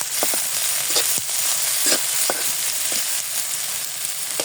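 New raw onions frying with salt in a pan give a steady, fairly loud sizzle, broken by repeated scraping stirs of a spatula throughout.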